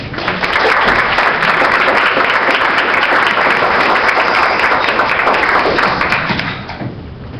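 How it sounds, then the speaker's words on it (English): An audience applauds a speaker at a trade show event with dense, loud, steady clapping that holds for about six seconds before easing off slightly at the end. "So please give her a big round of applause."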